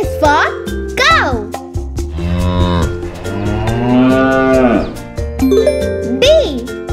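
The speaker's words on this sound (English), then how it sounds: "C is for cow." A cow moos loudly in a children's alphabet learning song, the long lowing call sounding near and clear over music, with a voice singing before and after it.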